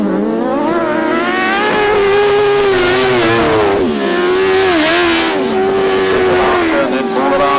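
Grasstrack motorcycles on the final lap of a championship race, their engines blaring loud and continuous with wavering, rising and falling pitch as the bikes race past, a commentator's voice running over the roar.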